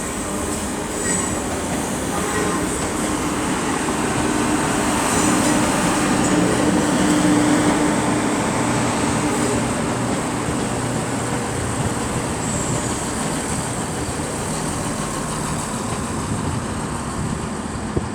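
ScotRail diesel unit 170-393, arriving from Inverness, runs through Edinburgh Waverley station with a loud, steady rumble of wheels and engine and a faint metallic squeal rising partway through.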